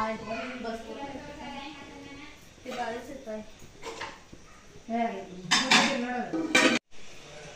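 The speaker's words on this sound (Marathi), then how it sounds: "त्याच्यावर झाकण ठेव की." A metal lid goes onto a pot of potato bhaji in a home kitchen, with sharp clinks and clatters of dishes and utensils, close by, amid people speaking.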